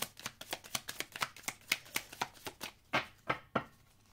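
Tarot cards are shuffled in a steady run of crisp riffling strokes, about four per second, close and fairly quiet, with a few heavier slaps near the end and no talking.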